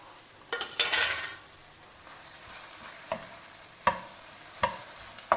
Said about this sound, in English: Mix everything very well